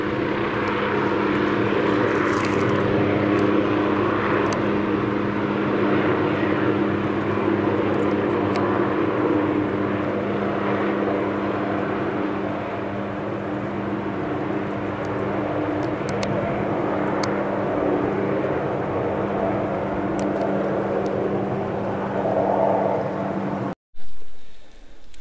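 A propeller airplane drones overhead, a steady engine hum that holds for a long stretch before cutting off abruptly near the end.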